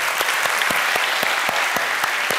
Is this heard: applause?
yes